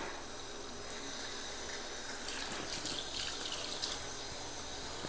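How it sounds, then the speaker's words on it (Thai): Tap water runs steadily into a sink while small tilapia are being cleaned and scaled, a broad continuous gush that swells slightly partway through, with no talking. "นี่มีน้ำไหลด้วย"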